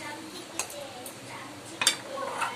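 A pot of boiled lentil dal is lifted off the stove with a few sharp metallic clanks and scrapes, close by, amid low kitchen background noise.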